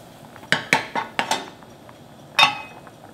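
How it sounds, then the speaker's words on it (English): A spoon clinks against a bowl of Korean mung bean porridge (nokdu-juk) while stirring, five quick sharp taps in a row, then a pause and one final louder clink, close and clear with no talking. "I like to give it a stir."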